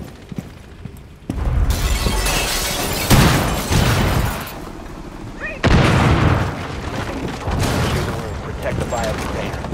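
Cluster charge detonating during a breach in Rainbow Six Siege, loud bursts of explosions and shattering in two heavy waves amid gunfire and game noise.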